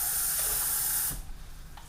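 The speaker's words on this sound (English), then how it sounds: "I'm going to add a little more water" Water poured into a pot of tomato sauce made from crushed tomatoes and tomato paste gives a steady, close splashing hiss for about a second, then cuts off into quieter stirring sounds.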